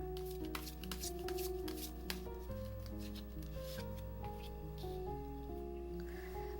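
Tarot cards being shuffled and handled at close range, a steady papery riffling and flicking that runs throughout beneath sustained soft background music.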